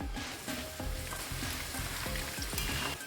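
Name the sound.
peanuts and crushed garlic frying in oil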